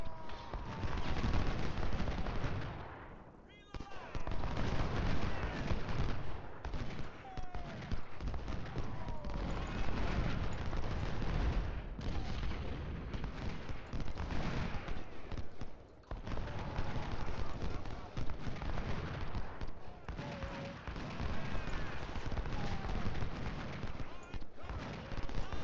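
Artillery and rifle fire from a Civil War battle in Ultimate General: Civil War at Chickamauga, with a Confederate Lamat cannon. The din stays dense and continuous, full of booms and crackling volleys, with hoofbeats and voices mixed in.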